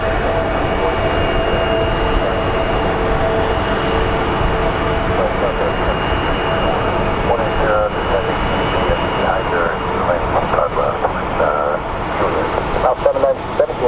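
Airliner on the LAX flight at Phoenix Sky Harbor International Airport, a loud, steady jet engine roar filling the whole span with broadband rumble and whine, with a voice briefly talking over it.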